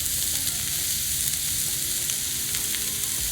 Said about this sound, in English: And I'm going to cook the sausage